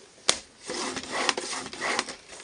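A scoring tool is drawn along card for a DVD gift box, making close, dry scraping strokes with a sharp click at the start.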